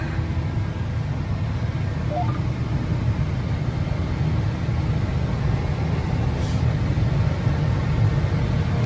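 A John Deere 8RX 410 tractor planting corn in a field, its steady engine drone and road-like rumble continuous and loud throughout, with a faint brief squeak partway.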